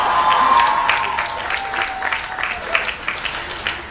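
A commencement crowd at Barnard applauding for President Obama: a loud, sustained wash of clapping from a large audience that tapers slightly toward the end, with no voice over it.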